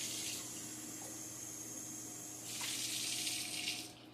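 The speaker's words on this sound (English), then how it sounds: "I'm just going to fill that with 2 cups water" Tap water runs into a cup in a kitchen, measuring two cups of hot water for yeast-sugar mixture for homemade eggless hamburger buns; a steady hiss that gets louder and brighter about midway as the stream strengthens, then tapers off.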